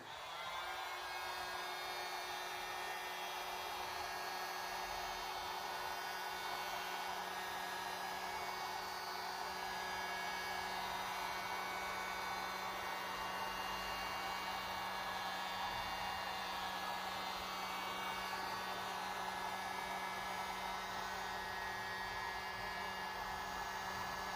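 A steady, loud whooshing hum of a heat gun on its lowest setting blowing continuously while melting wax into a Carhartt coat, unchanging throughout with no pauses.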